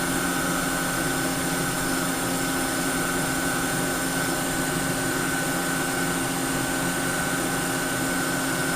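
Yasnac i80 CNC machine running a backlash test, a steady, loud continuous mechanical drone with fixed tonal whine that holds unchanged throughout, with no talking.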